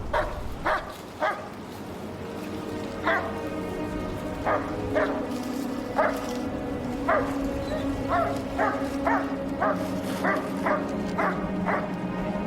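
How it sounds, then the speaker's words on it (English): A Massachusetts State Police cadaver dog searching a wooded area barks repeatedly in short, evenly spaced bursts, mixed with whimpers, fairly close over a quiet outdoor background with some faint talk. "This Mass State Police cadaver dog is reacting to the area where the boys said the clandestine grave had been."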